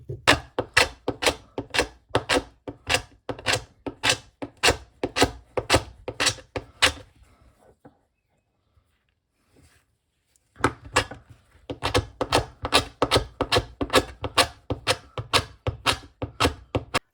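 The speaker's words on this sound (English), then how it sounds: "So I might do a little bit of preliminary scraping, see how that goes." Repeated scraping strokes on a bone needle replica being shaped by hand, a steady rapid rhythm of close, rasping passes that stops briefly for a few seconds of quiet before resuming just as steadily.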